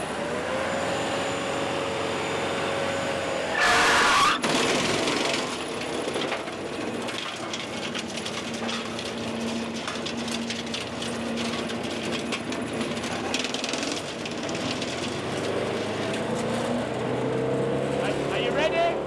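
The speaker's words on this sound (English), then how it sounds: "push that forward, that'll engage the PTO, you'll feel it just bog down a little bit, and then it'll pick up RPM." A tractor engine with its PTO engaged runs steadily at rising RPM, holding a sustained mechanical drone nearby while land is cleared. A brief loud burst interrupts it early, and speech is present.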